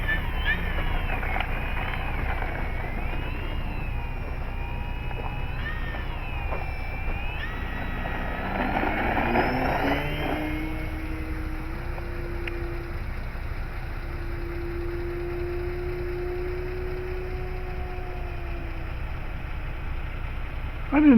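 A Dynam Waco RC biplane passes at full throttle. Its engine gives a thin, whining drone that swoops up and down in pitch as it flies by, then settles into a steadier, lower tone in the distance.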